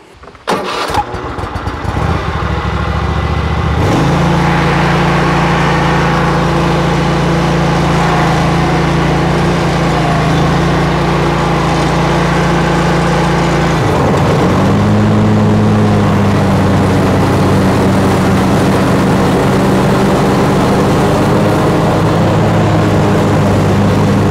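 A Bad Boy Maverick zero-turn mower's engine cranks and catches, then roars at full throttle in a loud, steady drone that shifts pitch once partway through as the load changes, with no talking.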